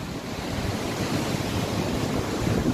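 Tawang waterfall in Arunachal Pradesh, the Fong Fong Ma waterfall near Jang, pours with a steady, loud rushing roar of falling water that stays even throughout, with no voices.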